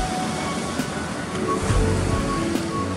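Ocean swell breaking into surf at a home surf break in light offshore wind, a broad, continuous wash of waves rumbling steadily with a slightly stronger surge midway.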